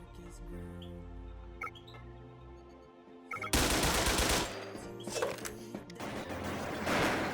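Wolfteam video game gunfire erupts midway, rapid bursts of shots over a low tonal game soundtrack, fairly quiet overall.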